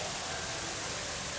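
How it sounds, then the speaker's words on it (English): A steady, dense rush of falling water from an indoor waterfall at an international market, like a cascade splashing into a pool nearby, continuous and even throughout. "Indoor waterfall."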